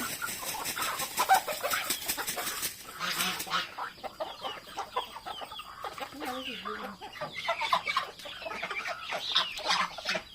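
Chickens cluck and squawk in a busy, overlapping chorus, fairly close, with a few faint voices mixed in among the birds.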